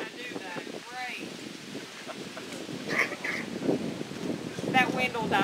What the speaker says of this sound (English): The wind would pick up big time right when I do that.